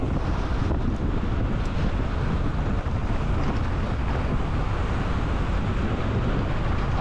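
Strong wind buffeting the microphone on a blue mountain-bike trail at a bike park, a steady loud broadband roar that continues without a break.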